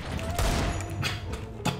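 Gunfire in Counter-Strike, a Desert Eagle pistol fired in quick succession: several sharp loud cracks over a busy, noisy game background, with a voice talking.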